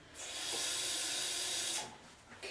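Hot water poured into a home-scale biogas digester to build water pressure, a steady rushing hiss that swells in, holds for nearly two seconds, then tapers off, fairly quiet and with no talking.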